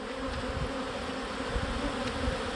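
Honey bees on a frame of all-worker comb in a hive set up for queen rearing, producing a dense, steady buzzing hum that stays close and even for a few seconds without talk.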